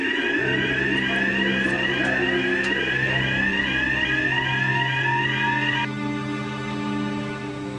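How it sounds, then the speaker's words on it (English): A fire alarm in a Merseyrail sub-surface station sounds loud and continuous, a steady electronic tone with a rising sweep that drops in pitch and changes pattern partway through, with no voices over it. "Do you remember how to set the fire alarm?"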